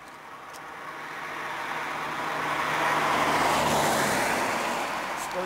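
A car approaching along a road on the Åland Islands, its broad tire and engine rumble swelling steadily from a distance to close by, alone without talk.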